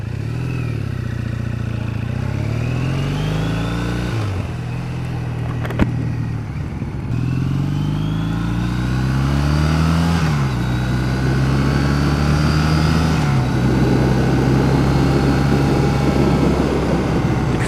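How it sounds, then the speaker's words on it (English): A 2014 Triumph Bonneville motorcycle engine pulls through several gears, each rising whine dropping at a shift, heard close and loud from the rider's position. "That's a sweet sounding motor."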